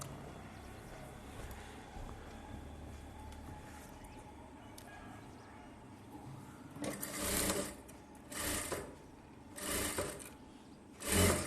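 Sewing machine stitching a hem on a blouse, quiet at first and then several short whirring bursts of stitching, each a second or so long, close by.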